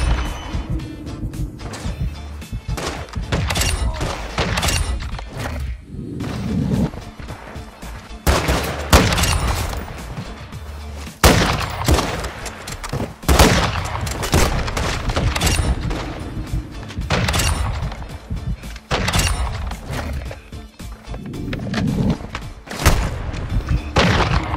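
Rapid, loud gunfire and booming impacts from a Call of Duty MW2 match with a sniper rifle, dense overlapping shots and thuds throughout with only brief gaps.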